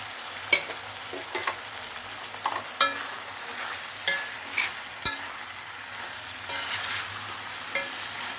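Brinjal and mango pieces cooking together in a pan, a low soft simmer broken by scattered sharp scrapes and clanks of a spoon against the pan, close by with no one speaking.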